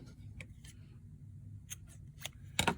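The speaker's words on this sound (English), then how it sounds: "then I'm going to cut another piece of yarn" Scissors cut a piece of yarn for a squeeze ball craft, a few soft snips followed by one sharper, louder cut near the end over low room noise.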